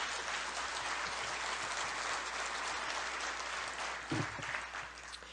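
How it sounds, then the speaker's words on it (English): Sustained applause from a luncheon audience, dense steady clapping that holds loud throughout with a brief swell near the end. "that deserves an applause."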